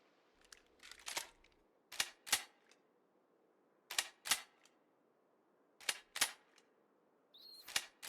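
Rounds clicked one by one into a rifle magazine inside a military-store looting video game, sharp close metallic snaps arriving in quick pairs with short pauses between, crisp and isolated.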